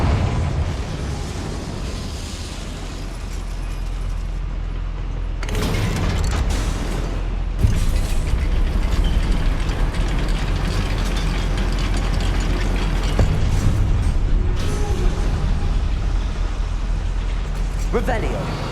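A goblin mine lift in Hogwarts Legacy grinds and clanks with ratcheting gear noise, running loud and continuous with sharp mechanical jolts partway through.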